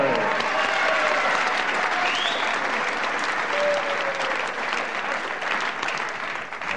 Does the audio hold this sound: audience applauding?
yes